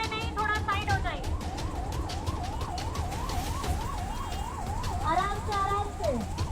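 Ambulance siren wailing in a steady rising-and-falling sweep as it edges through a dense crowd at an election road show, fairly close and loud over constant crowd noise and chatter.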